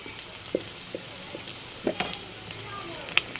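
Oil bubbles and sizzles steadily as shrimp fritters (okoy) fry, with scattered sharp pops and crackles close by, no voices.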